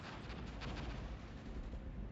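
Distant rumbling barrage of 125mm cannon and artillery fire in the Armored Brigade war game, a dense muffled roar of overlapping blasts that swells and holds at low volume, with no talk.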